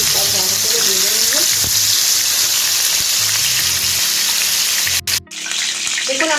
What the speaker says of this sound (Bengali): এটাকে উল্টে পাশে আমি দু পাশ ভালো করে ভেজে নেব।